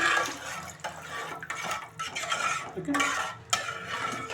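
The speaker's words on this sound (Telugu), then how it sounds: "ఇలా మొత్తము పెరుగు ఉంటలు లేకుండా బాగా కలబెట్టేసుకోండి" A spoon stirs thick curd in a steel vessel while curd vada is made, giving a close, wet scraping and slapping in repeated strokes with brief pauses between them.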